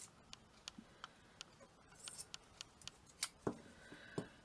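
Scissors snip through craft material for a shabby chic wool frame, a series of quiet, sharp cutting clicks spaced irregularly, close and otherwise near-silent.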